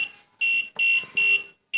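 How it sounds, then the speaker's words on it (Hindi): A note-checking machine flags a counterfeit banknote with an E2 error code, sounding loud repeated electronic beeps in an even on-off pattern, four long tones separated by short gaps. "तो ऐसे बीप करते रहेगा ये।"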